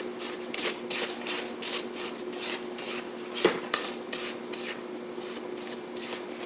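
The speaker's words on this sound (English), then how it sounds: "I'm going to scrape the sides one more time." A spatula scrapes the sides of a mixing bowl of banana bread batter in a home kitchen, a series of close, soft rasping strokes in an uneven rhythm, one sharper knock midway, with no talking.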